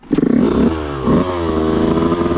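A Yamaha YZ125 two-stroke dirt bike engine labors in first gear on a hill, a loud close buzzing drone that rises and dips with throttle blips, steady throughout with no talk.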